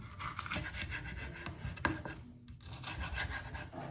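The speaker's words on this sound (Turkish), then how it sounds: "Kapya biberimizi de şu şekilde alıyoruz. Şöyle yarıdan bölüyoruz." A knife rasps and scrapes through a red capia pepper, halving it on a cutting board while preparing pickles, giving a steady close rubbing sound with a few small knocks.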